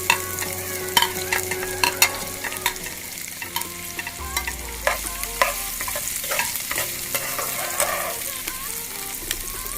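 Chopped onions sizzle steadily in a hot pan for paneer butter masala, with frequent scraping and clinking as a spoon stirs them, close and continuous without talk.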